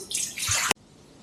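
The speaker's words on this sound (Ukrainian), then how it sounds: "Виливаємо воду." Water pours from a vessel into a bowl while making pizza dough, a short splashing gush lasting under a second before cutting off abruptly, close and fairly loud.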